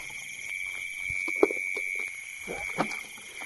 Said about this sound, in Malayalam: അഞ്ചാമത്തെ തവളയാണ് കേട്ടോ.